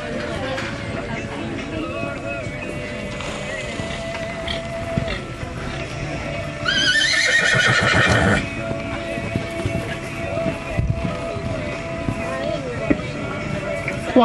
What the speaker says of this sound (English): Canter riders, all canter.